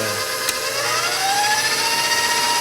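Electric mixer whirring at higher speed while whipping maple syrup into egg white for a maple mousse, a close, loud, continuous motor whine that rises slightly in pitch.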